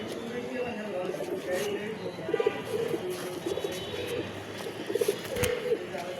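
A female pigeon coos in two short bursts, close but partly buried under a busy, noisy background with voices.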